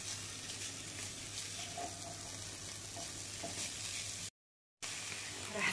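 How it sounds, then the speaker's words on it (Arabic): About 400 grams of minced meat with finely chopped onion frying in a pan, a steady close sizzle with faint stirring scrapes, cut off by a brief silent gap before resuming. "أنا بلشت بتقلية تقريبا 400 جرام من اللحمة المفرومة مع بصلة مفرومة ناعم"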